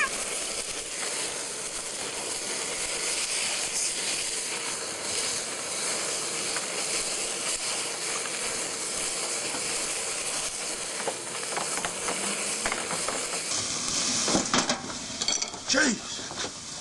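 Fat sizzling as food fries in a hot pan, a steady broadband hiss running throughout with a burst of louder crackling and spitting near the end.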